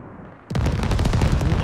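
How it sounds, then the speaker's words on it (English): Airstrike in the military shooter Squad, arriving as a sudden loud onset after a quiet lead-in, then a rapid chain of heavy explosions and crackling blasts rolling on without pause. "This, airstrike."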